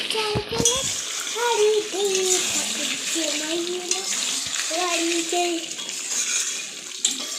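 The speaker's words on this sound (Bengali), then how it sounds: "গরম জল দিয়ে দেবো।" Hot water is poured into a pot of chicken curry with new potatoes, making a steady rushing splash that sits under a voice talking over it.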